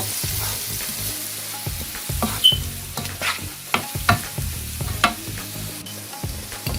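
A spoon stirs spices into pointed gourd (potol) and shrimp frying in a pan, giving repeated scraping knocks at an irregular rhythm over a steady close sizzle, with no talking.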